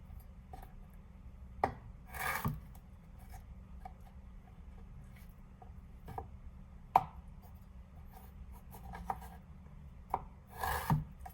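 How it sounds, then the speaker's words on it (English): A chef knife cuts fresh ginger on a board: quiet, scattered chops and scraping strokes spread irregularly, close and fairly soft, with no talking. "So let's cut the ginger."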